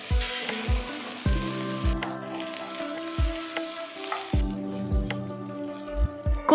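Curry leaves and a handful of fresh coriander leaves sautéing in a pan for cumin-flavored jeera rice: a steady sizzle runs throughout, broken by repeated knocks and scrapes of a spoon stirring against the pan.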